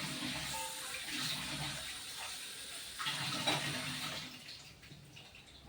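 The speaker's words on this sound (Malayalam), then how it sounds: "കുറച്ച് വെള്ളം ഒഴിക്കാം കേട്ടോ." Water poured into a cooking pot of appam batter, a continuous close splashing rush that swells midway and then tapers off, with no talking.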